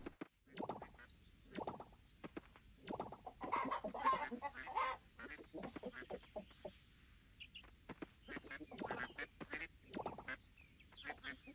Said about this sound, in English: I still love the way the quail sounds. The little peep peep it makes.